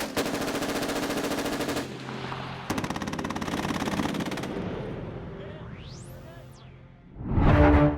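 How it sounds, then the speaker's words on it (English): Bursts from a 50-caliber M3P automatic machine gun on an Avenger air defense vehicle rattle out in two long, rapid, loud strings of fire, followed by fading whooshes and a final heavy blast. "The Avenger also carries a 50-caliber M3P automatic machine gun"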